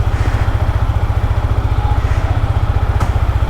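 Yamaha MT-15 V2.0 motorcycle idling right after starting, its single engine putting out a rapid, even putter that stays steady and close throughout, with a faint click near the end.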